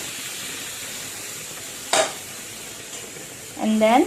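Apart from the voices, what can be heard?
stirring reduced milk into cooked carrots for gajar halwa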